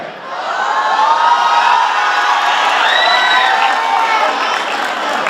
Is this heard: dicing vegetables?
no